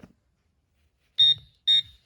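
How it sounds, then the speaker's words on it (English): Garrett Pro Pointer pinpointer sounding two short, loud electronic beeps over a New Zealand 10-cent coin, about half a second apart, with near silence between them. "We've got our pen here to mark whichever point the pinpointer beeps first consistently."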